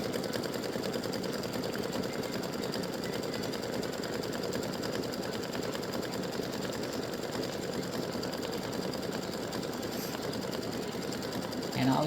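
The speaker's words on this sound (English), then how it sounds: "all it does is stitch this line." Embroidery sewing machine stitching a line across the top of a tic-tac-toe board, a steady rapid mechanical chatter running throughout at moderate, even volume.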